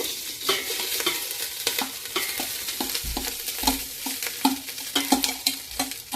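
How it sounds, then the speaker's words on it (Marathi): Rice is stirred through hot ghee in a pan for a prawn rice dish, with a continuous sizzle broken by frequent close scraping strokes and light clinks of the spoon, loud and unaccompanied by talk. "तूप टाकल्यानंतर थोडंसं फिरून घ्यायचं."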